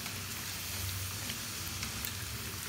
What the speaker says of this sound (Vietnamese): Rồi bắt đầu chiên khoai tây.